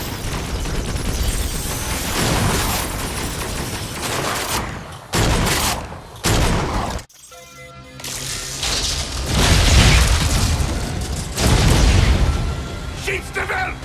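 Heavy weapon fire and booming blasts in the Agents of Mayhem video game as the core is shot, dense continuous bursts and explosions with a brief drop-out midway, a voice talking over the action.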